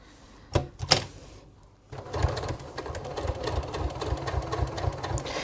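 Sewing machine stitching a shoulder pad for a crossbody bag strap, a few short stitch bursts first, then a steady close, rhythmic run of stitching that continues to the end.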